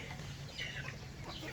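Farm chickens kept together with rabbits and ducks cluck softly in a short burst, a few faint calls over steady low background hum with no voices.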